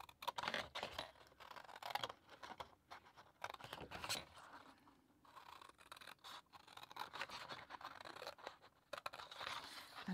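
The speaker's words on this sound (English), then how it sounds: "you're just going to cut straight down on all 4 score lines" Scissors snip and scrape through card stock along the score lines of a triangle-topped tealight gift box, a run of close, dry cutting and rustling strokes with short pauses between them.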